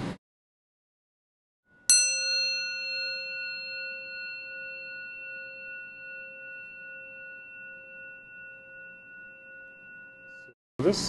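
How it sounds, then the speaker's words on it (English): A bell struck once, ringing out with a clear bright onset and several sustained pitched tones plus higher overtones that decay slowly over about nine seconds, close and alone before a voice comes in at the end. "This bell, you can see, has 5 main pitches, and then there's some higher kind of overtones here."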